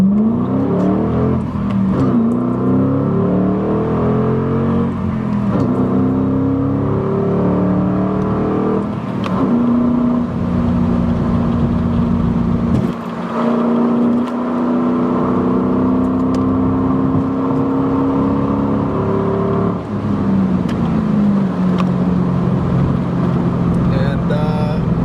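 A 2005 Mustang GT engine accelerates through several gear changes, its pitch rising and dropping repeatedly, loud and close inside the cabin as someone talks over it.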